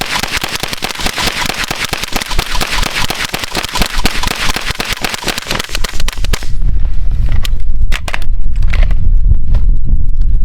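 Rapid automatic gunfire from a CZ Scorpion and a B&T GHM9 submachine gun, a loud dense burst of shots for about six seconds, then a pause and a few scattered single shots with ringing echo.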